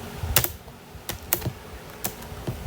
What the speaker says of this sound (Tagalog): gumana na keyboard ko